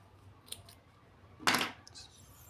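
Scissors snip through crochet yarn in one quick, crisp cut close to the mic, preceded by a couple of faint ticks and handling sounds in an otherwise quiet room.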